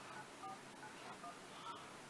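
Telephone keypad dialing tones, a quick series of short beeps at an uneven pace, moderately faint over a steady hiss of background noise.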